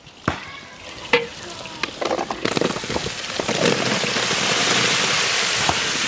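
Potatoes fry in a spiced masala for a Bengali fish curry, a steady loud sizzle building after a few sharp clatters as they go into the pan, with a brief voice near the start.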